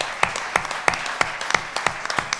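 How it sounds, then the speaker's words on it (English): Audience applause for a Project Pie contestant at a live grand finale event, steady dense clapping from a crowd with some sharper individual claps standing out, continuous throughout without talk. "a big round of applause for our third Project Pi contestants, Michael Talley"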